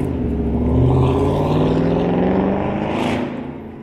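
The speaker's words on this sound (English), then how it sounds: "look at the traffic on Chestnut Street" Street traffic rolls along crowded Chestnut Street in Philadelphia in December, with a loud, close vehicle engine droning past and fading toward the end.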